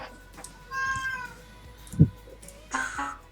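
A cat meows several times in clear, drawn-out calls, with a soft thud in between and faint background noise. The cat is close and fairly loud.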